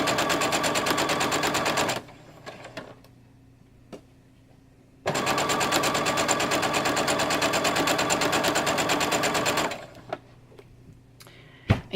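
Sewing machine stitching quilt block fabric strips, two long steady runs of rapid mechanical stitching with a quiet pause between them, close and alone, no talk.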